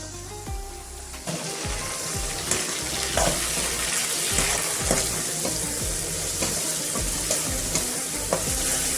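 Chopped onion and tomato frying in a pan for a radish curry give a continuous loud sizzle, with repeated scraping and stirring thumps from a spoon, close up and unaccompanied by speech.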